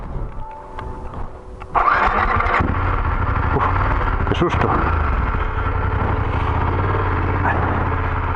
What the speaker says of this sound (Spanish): Menudo sitio para fallar la moto